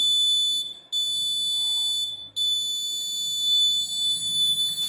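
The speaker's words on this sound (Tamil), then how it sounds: "நம்மளுக்கு உடனடியாக அலாரம் லேசர் செக்யூரிட்டி அலாரம் எச்சரிக்கை கொடுக்கும்" A laser security alarm sounds a warning: a loud, piercing, steady electronic tone that cuts out twice briefly, then resumes and holds.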